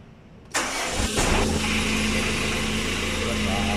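A manual car engine cranks and catches with a loud burst, then settles into a steady, close rumbling idle.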